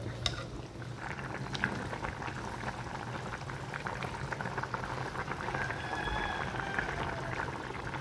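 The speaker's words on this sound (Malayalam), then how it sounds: "തിളച്ച് വരുമ്പോഴത്തേക്കും നമുക്ക് കുറച്ച് തീ കുറച്ച് വെച്ചിട്ട് ഒന്നുകൂടി വറ്റിച്ചെടുക്കാം" Kottayam-style sardine curry with kudampuli bubbling steadily in a pot, a soft continuous simmering hiss with dense small bubbling pops, close and even throughout, no talk.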